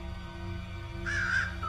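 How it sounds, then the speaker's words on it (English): Crows caw harshly from big willow trees in a spooky Halloween story scene: one rough, grating caw rises midway, close and clear above a low, steady droning bed. "Those same crows greet them as they make their way nervously up the drive, beady eyes glinting in the candlelight, cawing harshly from the big willow trees"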